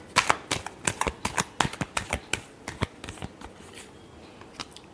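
Tarot cards riffled and shuffled by hand in a quick run of crisp, close slaps and flutters, dense at first and thinning out toward the end, with no voice over them.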